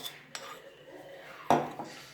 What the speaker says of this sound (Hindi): सबसे पहले हमने बड़ा सा एक बर्तन लिया है, इसमें हम अदरक लहसुन का पेस्ट वो डाल रहे हैं।